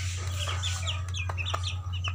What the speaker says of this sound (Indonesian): ayam kampung yang saya pelihara ini saya kasih makan dedak fermentasi